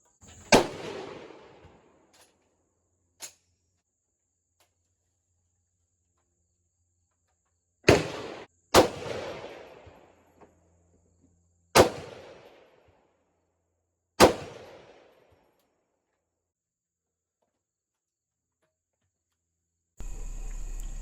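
Six sharp M14 rifle shots on an Army qualification range at 200-yard silhouette targets, spaced irregularly with echoing decays and long silent gaps between.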